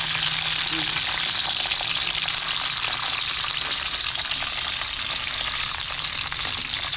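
Freshly picked vegetables frying in hot cooking oil, with steady loud sizzling and crackling spatter that runs unbroken the whole time.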